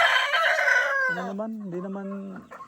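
A rooster crows close by on a farm where goats are kept: a loud, strained call with a bright harmonic first part, then a lower, drawn-out tail, heard alone.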